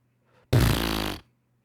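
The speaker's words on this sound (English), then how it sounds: "Damn, I don't think I'll ever do a fart as good." A single loud, buzzy fart recorded as a sound effect for a Godot game, lasting under a second and heard alone against near silence.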